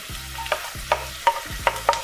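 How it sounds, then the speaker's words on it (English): Onions, garlic and ginger sizzling in a pan while being stirred, with regular scraping strokes roughly every half second over a steady light sizzle. "Onions are sizzling."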